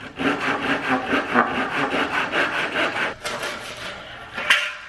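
A hand saw cutting through pallet wood in steady back-and-forth strokes, close and fairly loud, with a brief pause before a final few strokes.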